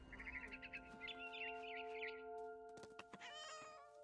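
A cat meows in the video game What Remains of Edith Finch, a faint, drawn-out mewing near the end that follows quiet warbling chirps over a steady musical hum.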